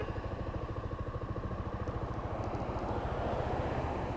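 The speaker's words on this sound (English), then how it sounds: "There it is, guys, the 1983 Yamaha Riva 180." A 1983 Yamaha Riva 180 scooter engine runs close by with a steady, even putter that stays constant and grows slightly louder near the end, with no talking.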